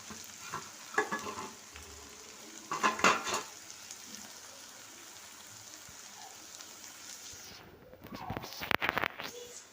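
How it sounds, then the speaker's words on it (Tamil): Onions sauté in a pan with dried milk shark, a soft background sizzle broken by a few sharp stirring clatters of a utensil against the pan. "இப்போது வெங்காயம் வந்து வதங்கிட்டே இருக்குது"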